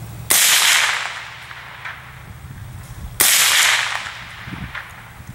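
Two sharp, loud supersonic 300 Blackout rifle shots fired at a 100-yard target, each a sudden crack with a ringing outdoor decay, spaced about three seconds apart.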